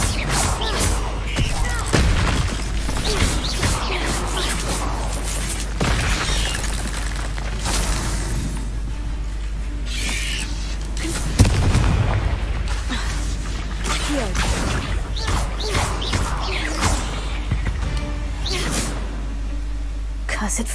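Confringo blasting spells in Hogwarts Legacy, with repeated booms, crashes and shattering bursts amid ongoing combat noise and frequent talk over a steady low hum.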